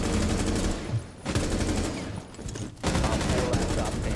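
Heavy automatic gunfire in a Rainbow Six Siege gunfight, sustained rapid shots pounding on and off at close range with a brief lull in the middle, a voice faintly present underneath.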